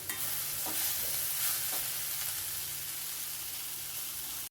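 Cluster beans and dal usili with grated coconut sizzle steadily in a pan, a continuous close, even frying hiss with a few soft stirring scrapes and no talking.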